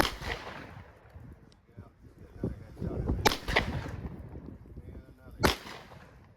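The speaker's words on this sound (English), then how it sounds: "I'm gonna hit him with some speared gold dot out of my EDC 43X." Two sharp, loud gunshots from an EDC 43X pistol loaded with 124-grain Speer Gold Dot rounds, spaced a couple of seconds apart, with speech and outdoor noise between them.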